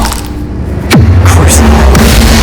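A spell blast fires in Hogwarts Legacy gameplay, a loud whooshing sweep followed by a booming impact and another swishing burst over a dense game soundscape.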